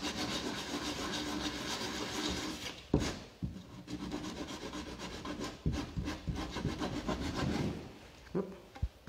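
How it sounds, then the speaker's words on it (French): Wood pieces have their ends sanded by hand, a steady rasping rub with rhythmic back-and-forth strokes and occasional knocks, close and moderately quiet. "On va faire un autre bout propre, c'est ok. on va juste les poncer comme tout à l'heure."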